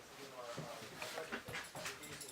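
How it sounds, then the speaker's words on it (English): A dog whimpers and gives short, high yips mixed with panting close by, with people talking throughout at what sounds like a fire scene. "The dog seems really happy to see us."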